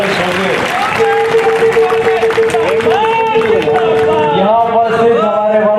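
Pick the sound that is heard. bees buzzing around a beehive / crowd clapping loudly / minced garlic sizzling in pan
crowd clapping loudly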